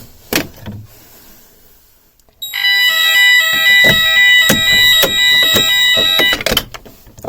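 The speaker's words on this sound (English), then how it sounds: "Let's start with zone number 1." After a brief quiet stretch with a few knocks, a building's fire alarm sounds loudly for several seconds during a zone 1 system test, with a steady electronic tone broken by regular pulsing beats.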